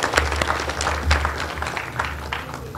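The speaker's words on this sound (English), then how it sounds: "Shall we clap for Professor Julia Odhiambo?" Applause for a professor at a University of Nairobi graduation ceremony, scattered clapping from a large gathering, moderately loud, with a low steady hum beneath it.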